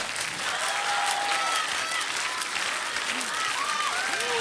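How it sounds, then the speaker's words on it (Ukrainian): Sustained audience applause for a singer after her performance, dense steady clapping from a crowd filling the whole stretch with faint whoops over it. "Ваші оплески"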